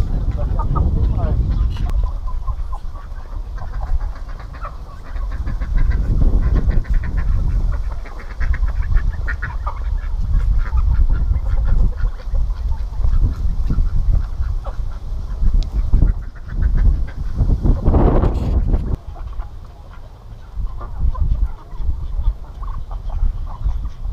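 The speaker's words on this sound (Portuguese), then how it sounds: "Uma briga danada essas galinhas aqui" Chickens squabble noisily on a rural farm, with loud, persistent clucking and squawking that rises in bursts while people talk nearby.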